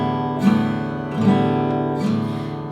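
Guitar strummed at a faster pace, three crisp strokes about a second apart, each chord ringing into the next, close and clear with no speech.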